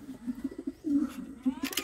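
Racing pigeons coo at a loft, giving low, throaty, repeated coos close by. A short chirp and faint background noise are heard toward the end.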